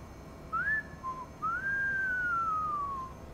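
Judy, a character in the video game Cyberpunk 2077, whistles a short, clear melody: two quick rising notes, then a long note sliding gently downward, heard alone over faint background hum.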